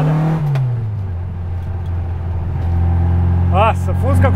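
A Volkswagen Fusca with a large 2300 engine roars as it accelerates, a loud, deep engine note rising in pitch, with a voice briefly over it near the end.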